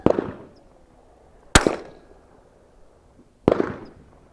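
Three sharp, loud cracks from a CZ 455 .22LR rifle fired at long range, spaced about a couple of seconds apart, each with a short fading tail and near silence between.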